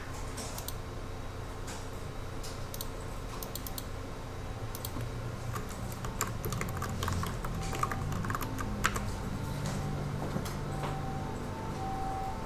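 Computer keyboard typing while entering a dimension command in CAD software, with steady key clicks and occasional sharper keystrokes like Enter presses, close and fairly quiet over a low background hum.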